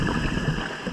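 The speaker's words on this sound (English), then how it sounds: "Take a listen to all the boats flying over the top" Boat engines and propellers passing overhead in a busy shipping lane near Herm, heard underwater by a scuba diver as a constant low churning drone with no talk.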